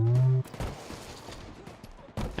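A grenade blast in a first-person shooter game goes off right at the player's feet, a loud low burst in the first half second, followed by softer game noise and a sharp sound near the end.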